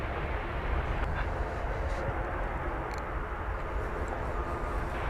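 An airliner landing at DFW Airport produces a steady, broad roar that stays fairly loud and even throughout, with no voices.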